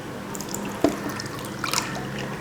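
Semolina batter water being poured through a strainer in a home kitchen, heard as a distinct drip and splash followed by scattered trickling, close and moderately quiet.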